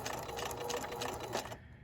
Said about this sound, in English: I'm going to let go of that reverse button and sew forward again.